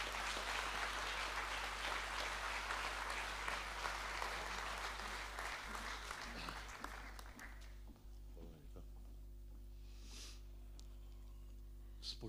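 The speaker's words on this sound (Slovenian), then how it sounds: "Mu bomo še enkrat zaploskali" An audience at a civic ceremony in Krško, Slovenia claps loudly and steadily before the applause thins into scattered claps and fades, with a low mains hum and faint voices underneath.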